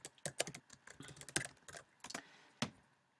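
Someone types on a computer keyboard in an irregular run of close, crisp key clicks with short pauses between bursts.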